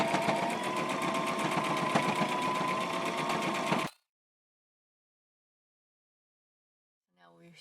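Sewing machine stitching the side of a fabric face mask, a fast, even, close mechanical whir that runs for about four seconds and stops abruptly, followed by silence and a brief voice at the end.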